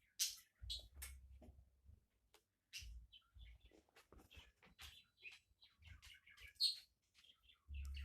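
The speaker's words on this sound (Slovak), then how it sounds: "Mám tu vtáčika, trošku bude kričať." A pet bird chirps and squawks in short bursts of sharp, shrill calls with gaps between them, close by and fairly quiet, over a low background thump.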